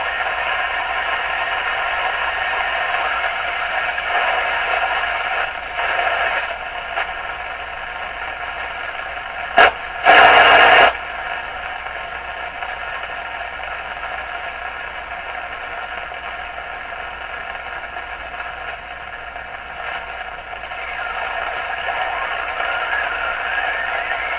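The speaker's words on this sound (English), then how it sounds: "No, it's not. It's teletype." Steady shortwave static on a Stromberg Carlson Model 515 radio with layered tonal bands of a radioteletype signal, interrupted by a brief burst of clatter near the middle.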